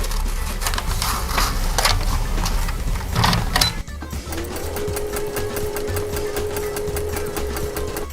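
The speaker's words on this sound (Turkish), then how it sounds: "Şu pembe eteğin yırtılan yerini dikelim." Sewing machine stitching a torn pink skirt with pink thread in a bridal workshop, running steadily and loudly throughout with rapid mechanical whirring and a brief pause midway before resuming.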